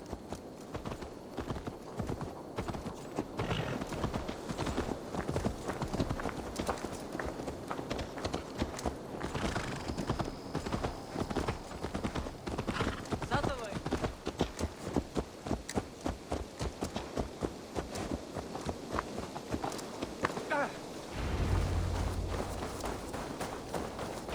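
Horse hooves clip-clopping in Assassin's Creed Valhalla, a steady rhythmic trot of close, crisp hoof strikes running continuously, with occasional game ambience and a brief low rumble near the end.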